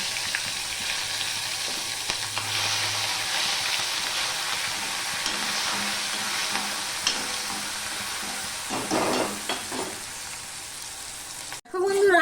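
Grated ginger and green chilli frying in oil in a pan for a Bengali raw mung dal, a steady bright sizzle with occasional stirring scrapes, ending in a brief clatter.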